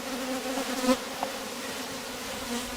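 Honeybees in a Rose hive hum in a close, steady buzzing drone, with a few individual bees passing near and briefly louder, no voices heard.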